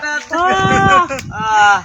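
A voice mimics a male goat's bleat, two wavering, nasal bursts separated by a short pause, loud and close.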